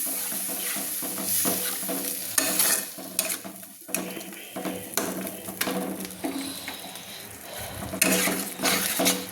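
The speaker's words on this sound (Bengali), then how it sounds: "এইভাবে একটু ভালো করে আমি নেড়ে নেব যতক্ষণ না মশলা থেকে তেল ছাড়ছে" Spiced masala for ol chingri dalna, a yam and prawn curry, being stirred and fried in a pan: repeated scraping strokes and sizzling bursts close up over a steady tonal background.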